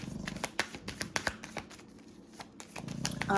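Tarot cards are shuffled up close in quick, soft flicking bursts with brief pauses between them, quiet and intimate, ending in a louder rustle.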